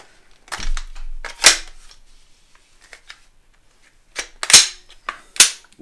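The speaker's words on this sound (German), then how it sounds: "Und wir können schießen." A Glock pistol fitted in a CAA Micro Roni carbine conversion fires a handful of sharp, loud shots in two short bursts separated by a few seconds of quiet, with faint handling clicks between them.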